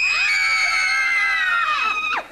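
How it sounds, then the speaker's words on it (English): Three girl assistants scream together in one long, loud, high-pitched shriek that holds steady for about two seconds before breaking off. "That was all three girl assistants screaming at once."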